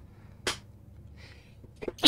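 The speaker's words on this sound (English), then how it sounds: "Oh, I sneezed again." Sharp human sneezes, one burst near the middle and another at the end, close and loud against a quiet background with faint noises between.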